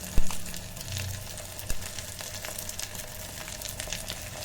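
Maggi masala, egg and tomatoes fry inside an electric kettle with a soft continuous sizzle, a couple of sharp knocks near the start, quiet and close.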